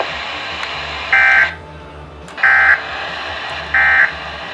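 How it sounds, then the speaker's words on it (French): Weather Radio Canada weekly test alert: three short, steady electronic tone bursts, evenly spaced and loud, over a constant hiss of radio static. "Ce message est destiné à tester les fonctions d'activation d'alarme et d'affichage des nouveaux"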